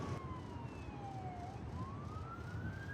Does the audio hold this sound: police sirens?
yes